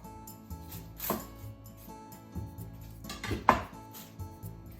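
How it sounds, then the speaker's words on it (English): A knife chops through an onion on a cutting board, cutting the top off, with a few sharp thuds and clatters of kitchen utensils over a quiet room. "Onion, cut the top off."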